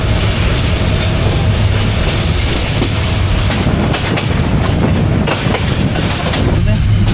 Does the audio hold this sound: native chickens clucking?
no